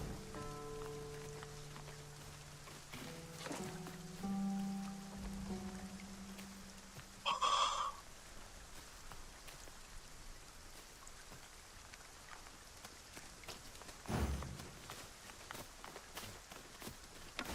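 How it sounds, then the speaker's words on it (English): Steady rain patters through a Dragon's Dogma 2 game scene, a soft continuous hiss with occasional footsteps and brief louder bursts, alongside low sustained tones. "The rain ought to abate soon enough."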